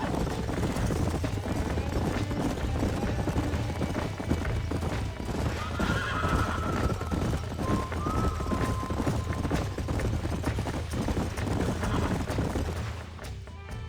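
Horses from Red Dead Redemption 2 in a continuous, dense clatter of hooves with a couple of whinnies rising above it, loud and close throughout.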